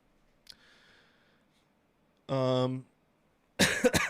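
A single throaty cough bursts out loudly at the end, preceded by a short voiced sound and a quiet breath.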